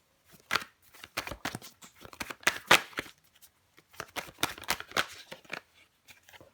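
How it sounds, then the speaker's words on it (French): Tarot cards are handled and laid out on a table, a series of soft, irregular papery slaps, flicks and slides, close and fairly quiet, in uneven bursts with short pauses between. "On va recouvrir des cartes."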